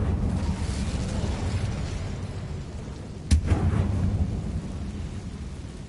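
An Incendio fire spell cast in the Hogwarts Legacy video game bursts out suddenly as a loud whooshing blast midway through. It rises over a steady rumbling game ambience that continues on both sides.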